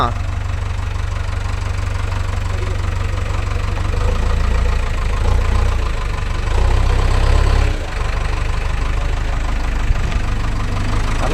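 A JCB 3DX backhoe's diesel engine runs at a steady, loud, low rumble throughout, close by, while people talk over it.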